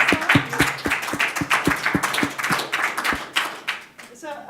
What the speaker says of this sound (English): I would like to invite you for a round of applause for Britta for coming here